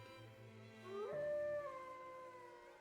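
Giet howls in the Tales of Legendia video game, a single faint rising and falling canine howl about a second long, heard over quiet game ambience.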